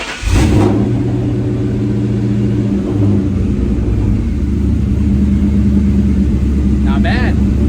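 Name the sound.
Ford Mustang engine running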